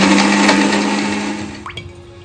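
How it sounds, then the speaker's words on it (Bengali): A mixer grinder whirs at high speed blending raisins, yogurt and garam masala paste with a little water, loud at first then winding down and fading over a couple of seconds. "একসাথে এগুলোকে মিক্সিতে গুঁড়িয়ে নেব।"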